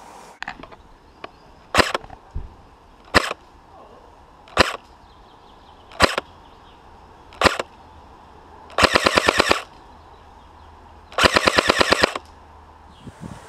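Real Sword Type 97 airsoft rifle firing 0.25 g BBs during an FPS test at Matlock Combat Games: five sharp single shots spaced about 1.5 seconds apart, then two rapid full-auto bursts, loud and close.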